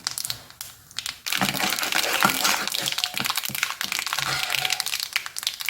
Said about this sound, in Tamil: கடுகு நல்லா பொரிஞ்சிருச்சு இப்போ